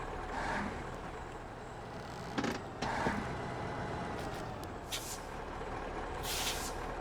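A Tayga truck in SnowRunner, loaded with cement, starting up: a steady low engine rumble with brief hisses and clunks from air brakes and mechanisms, at moderate loudness, with no talking.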